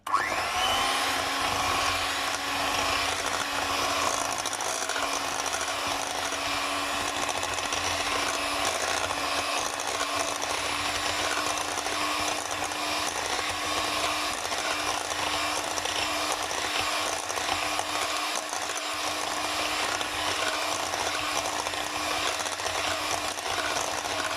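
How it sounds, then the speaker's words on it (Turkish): An electric hand mixer whirs steadily and close, whisking crepe batter of corn flour, egg and milk, a constant buzzing motor drone with scraping in the bowl and no speech. "mikserimizle bir güzel çırpıyoruz arkadaşlar."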